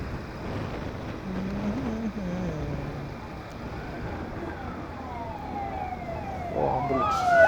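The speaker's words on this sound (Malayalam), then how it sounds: "ഓ ആംബുലൻസ്." An ambulance siren wailing on the road, rising and falling at moderate distance over steady motorbike engine and road noise, growing louder at the end.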